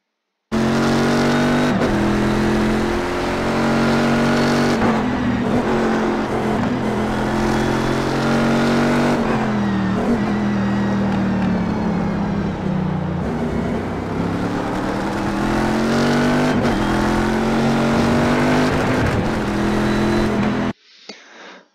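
A race car in the iRacing sim laps the Mid-Ohio circuit, its engine droning loud and steady throughout with rising and falling revs through gear changes, cutting off near the end.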